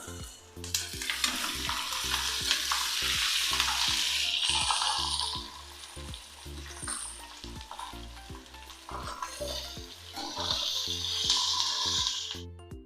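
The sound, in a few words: capsicum frying in spice paste in a pan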